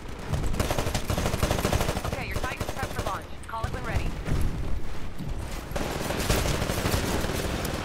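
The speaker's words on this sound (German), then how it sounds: "Wir hatten also eine Schnellfeuerwaffe." Rapid-fire weapon gunfire in the Titanfall closed beta Attrition mode crackles in dense, fast bursts with brief gaps, with voices talking over the shooting throughout.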